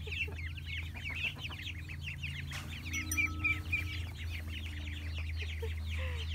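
Chickens cluck and chatter continuously at close range, a busy flock of overlapping calls over a low steady hum.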